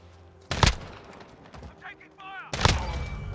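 Two loud bursts of video-game pistol fire, one early and one near the end, with muffled game sounds and faint chirping tones between them.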